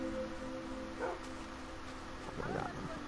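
A dog in Minecraft gives a couple of short, faint barks over a low background hum and game ambience.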